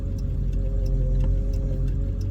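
Noisy power steering pump on a hotshot truck, a steady low engine drone with a faint whine and light, evenly spaced ticking throughout.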